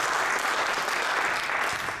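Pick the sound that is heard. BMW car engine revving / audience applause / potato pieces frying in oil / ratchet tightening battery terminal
audience applause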